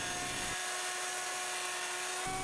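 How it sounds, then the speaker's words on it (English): A router with a 1/2-inch spiral bit cuts a stopped dado in walnut, a loud high-pitched whine that drops into the cut and rises again as the bit clears, all under a steady motor hum. "Next I'll cut the Stop Dedos with my router and a 1/2-inch spiral bit"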